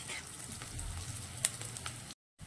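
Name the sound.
onion frying on high flame for methi bhaji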